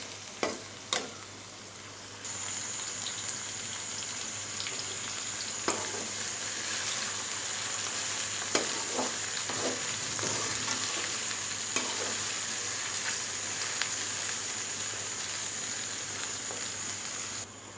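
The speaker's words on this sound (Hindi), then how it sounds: "अभी इन्हें पिंकिश ब्राउन कर लेंगे प्याज़ों को।" Onions frying in a pan until pinkish brown for dhaba-style masala bhindi, a continuous soft sizzle with occasional stirring clicks and scrapes, heard alone without talk.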